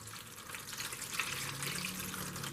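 Water runs softly into the base of a seedling tray, a faint continuous trickle and pour with a gentle splashy hiss, close by and quiet, with no voices over it.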